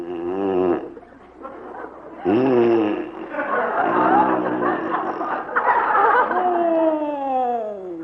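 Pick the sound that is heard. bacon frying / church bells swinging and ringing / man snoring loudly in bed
man snoring loudly in bed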